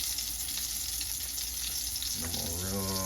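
Butter sizzling in a hot pan with cinnamon-sugar biscuits, a steady close frying hiss that stays even throughout and has no talk over it.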